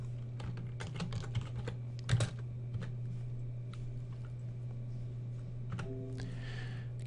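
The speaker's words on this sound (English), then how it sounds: "Let me go ahead and type some text here so you'll get a feel for this." Clicky typing on a computer keyboard as text is entered into shapes: an irregular run of light keystrokes, fairly close, over a steady low electrical hum, with no talking.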